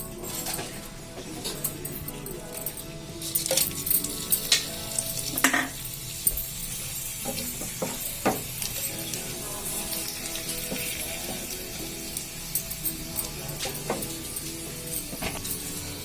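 Two red chillies sizzle in hot oil for a tempering, a steady crackling fry with occasional clinks and stirring taps, alone with no talk.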